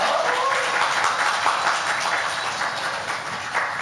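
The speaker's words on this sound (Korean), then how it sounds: "큰 박수로 환영해 주시면 감사하겠습니다" A church Christmas family camp concert audience applauds to welcome a singing, instrument-playing family, the clapping a dense, steady wash throughout with no talk.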